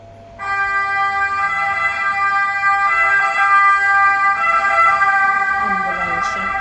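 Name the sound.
ambulance siren passing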